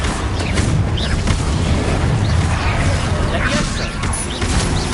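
Confringo fire-spell blasts in Hogwarts Legacy on PS5, heard as dense overlapping booms and bursting pops in a continuous loud battle mix, with game voices shouting over the action.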